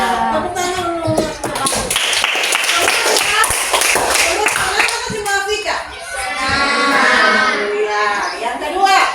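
A class of schoolchildren claps hands together during a lesson at school, a dense, loud patter of claps with children's voices chattering over it throughout.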